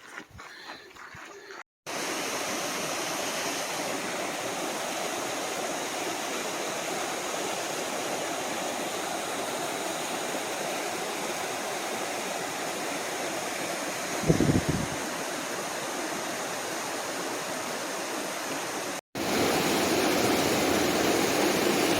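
Clear mountain stream on a Katahdin climb rushes steadily as a loud, close, continuous wash of water, with a brief low thump partway through.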